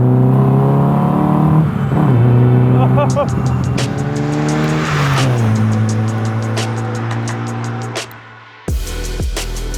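A Mazda Miata MX-5-powered MK Indy RX-5 Deluxe kit car drives hard, its engine revving up through the gears with loud, rising and falling tones, tyre noise and a sharp cut near the end before the engine picks up again.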